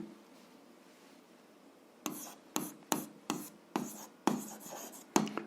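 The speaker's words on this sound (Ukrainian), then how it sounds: "Записуємо тоді." A pen writes out an algebra solution on paper in quick bursts of scratching strokes, each stroke sharp at the start and then fading, following a stretch of near quiet, close and fairly loud.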